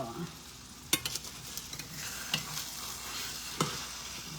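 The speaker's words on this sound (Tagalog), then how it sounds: "Isdang pinirito." Fish fries in a pan with a steady broadband sizzle, broken by a few sharp clanks of a utensil against the pan, up close with no one talking.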